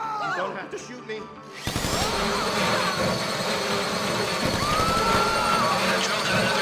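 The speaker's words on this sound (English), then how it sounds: "How you doing with that drill?" A drill in a GTA Online bank heist starts abruptly and runs loudly as a continuous whirring grind with a high pitched squeal, while characters talk over it.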